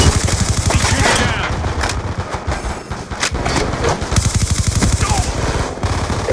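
Rapid automatic gunfire in the video game Black Ops 2, loud rattling bursts that repeat with brief pauses, with faint game sounds between them.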